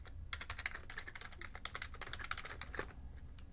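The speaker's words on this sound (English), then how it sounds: "Enter in my super user password here that I totally mistyped." Quick, irregular keystrokes on a computer keyboard as a password is typed, a close and faint run of clicks with no talking.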